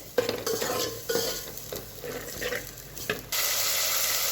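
Masala with turmeric is stirred and fried in a pan for a spicy chana dal amti, with rhythmic scraping strokes over a sizzle that swells into a louder, steady fry at the end.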